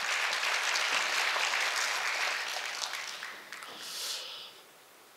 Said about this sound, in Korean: 세 분한테 큰 박수 드리겠습니다.